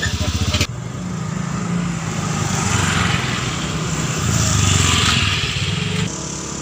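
A Honda Wing motorcycle rides along steadily, its engine a continuous loud drone that swells slightly mid-ride, after a brief idle rumble at the start.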